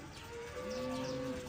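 A cow on a large cattle farm lets out a single long low moo, close and clear over quiet background noise, with no talking.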